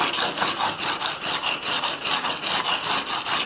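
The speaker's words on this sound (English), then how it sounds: "now we're going to sharpen this side with 240 and create a second burr" A swept knife blade is stroked back and forth across a 240-grit abrasive plate, giving a steady, rhythmic rasping scrape about three strokes per second, close and continuous with no talking.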